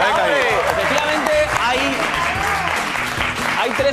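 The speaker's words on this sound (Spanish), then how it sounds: "Me ha gustado ese aplauso." Studio audience applause on a Spanish television program, a dense, steady wash of clapping lasting several seconds with voices talking and calling out over it.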